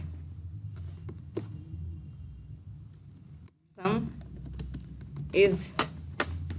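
Computer keyboard keys click in scattered bursts as Java code is typed, steady light tapping and then denser clusters near the end, with a voice speaking between the keystrokes.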